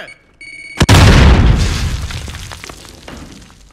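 A grenade blows up in Call of Duty Warzone. A short electronic beeping comes first, then a single loud, close boom that rolls off into a long, fading rumble with scattered debris.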